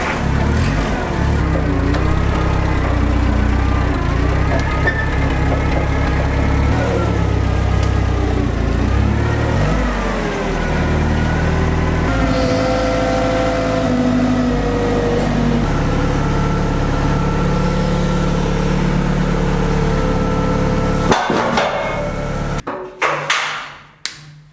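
A forklift engine running steadily at a workshop, a loud continuous low mechanical drone with occasional knocks and clanks that cuts off abruptly near the end.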